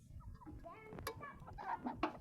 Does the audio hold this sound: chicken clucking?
yes